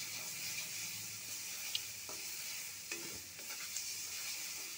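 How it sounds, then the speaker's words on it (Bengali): Spice masala for a pabda fish curry sautés in oil in a pan, giving a soft, faint sizzle with light clicks and scrapes of stirring. "মশলাটা কষিয়ে এসেছে"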